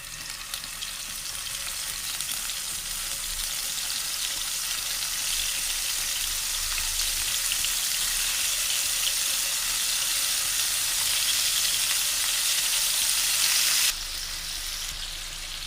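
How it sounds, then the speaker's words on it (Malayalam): Fish shallow frying in a little coconut oil in a pan gives a steady, dense sizzle that holds evenly close by, easing slightly at the very end. "ഈ മീൻ ഷാലോ ഫ്രൈ ചെയ്യുന്നത് കൊണ്ട് കുറച്ച് വെളിച്ചെണ്ണ മതി"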